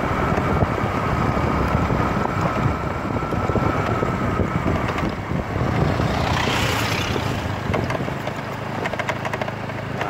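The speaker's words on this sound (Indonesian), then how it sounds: "Ini ada sebuah bus dari Medan yang menuju Takengon" A bus travelling from Medan to Takengon, stopping over in Bener Meriah regency, rumbles past as a steady, loud engine drone, swelling slightly near the middle before easing back, with no talk.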